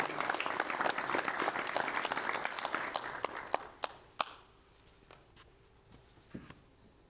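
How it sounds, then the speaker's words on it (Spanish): A crowd of men at a San Diego church men's gathering applauds, a dense, loud wash of clapping for about four seconds before it thins into a few scattered claps and quiet. "Dale un fuerte aplauso a Pompeyo, por favor."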